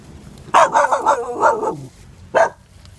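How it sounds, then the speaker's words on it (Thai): A stray mother dog barks nearby, a run of several quick yipping barks followed by a pause and one more sharp bark. "แม่เห่าใหญ่เลยแม่จะกัดเปล่าไม่รู้"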